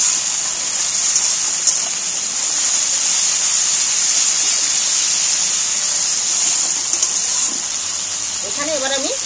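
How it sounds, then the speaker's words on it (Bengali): Green chili paste frying in oil for a vegetarian soybean and paneer dish: a continuous bright sizzle holds steady throughout, and a voice briefly appears near the end. "এইটাকে একটু ভালো করে ভেজে নিই।"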